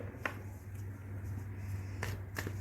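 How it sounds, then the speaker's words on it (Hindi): Tarot cards being shuffled by hand, heard as faint soft riffling swishes with a few brief sharper flicks near the end over a low background hum. "okay viewers, let's start shuffling"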